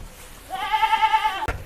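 A Jawarandu goat on a farm gives a single clear, wavering bleat lasting about a second, ending in a short knock.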